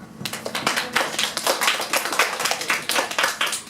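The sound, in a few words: applause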